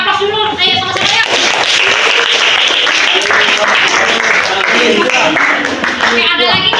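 A classroom group applauds together for group 3, steady dense clapping filling the room for several seconds, with children's voices mixed in near the start and end.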